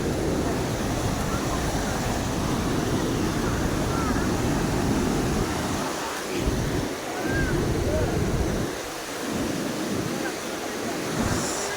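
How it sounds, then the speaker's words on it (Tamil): Steady rain falls outdoors in the hill country of Valparai, a dense even wash of noise with some flowing-water character. It runs loud and constant, with brief dips in the low end, and no voices. "மழை பெய்யுது."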